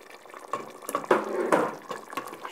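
Water is poured in short, uneven splashing bursts into a pot of Hungarian beef goulash as it cooks, the liquid gurgling close by for a couple of seconds.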